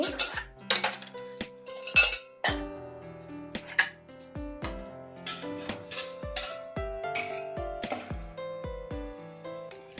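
Cooked mung dal is moved into a large pot with metal utensils, producing sharp, irregular clinks, clanks and knocks of steel on steel, close by and scattered unevenly throughout.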